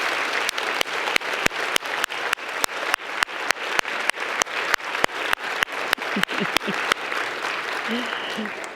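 A church audience claps warmly to welcome poet Jaki Shelton Greene, with steady, even applause under a strong regular click or tick, sustained for several seconds with little crowd noise.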